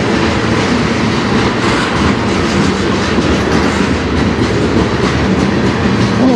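A CN freight train passes at night on the Strathroy Subdivision, a loud continuous rumble of rail cars with rhythmic wheel clatter on the joints, close and steady throughout.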